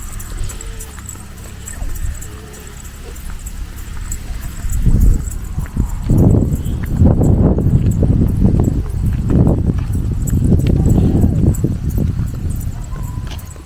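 Cattle hooves clop and thud on the ground as cows are herded out to graze, a rhythmic run of steps that grows louder and busier over time, with a herder's voice calling now and then.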